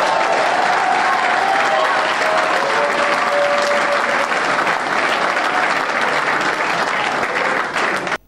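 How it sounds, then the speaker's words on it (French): An assembly applauds the governor of Kongo Central, Guy Bandu, with loud, sustained clapping lasting several seconds before cutting off abruptly, a voice briefly audible beneath the applause. "Je voudrais qu'on applaudisse notre chef."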